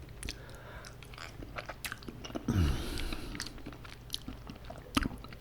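Cheesy spicy noodles being eaten up close, with soft slurps and repeated wet chewing and biting sounds spread through the clip and a louder crunchy burst midway, no talking.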